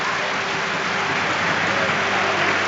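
A large football crowd at Easter Road stadium applauds as Hibernian and St. Mirren walk out, a dense, loud, continuous wash of clapping and noise that stays steady throughout.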